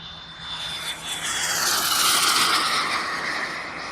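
A giant-scale RC T-38 Talon model jet goes to full throttle in flight, giving a loud, sustained turbine roar and hiss that swells and sweeps in pitch as it passes.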